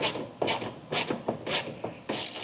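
A ratchet wrench turns a Torx bit during a catch can install on a 2019 Ford Ranger, giving five quick, close, crisp bursts of clicking at an even rhythm with no talk.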